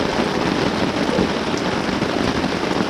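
Heavy rain pours down steadily over a car campsite in the woods, a dense, close, unbroken hiss of drops with no voices.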